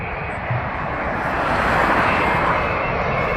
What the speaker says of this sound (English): Look at this. Virgin Dreamliner.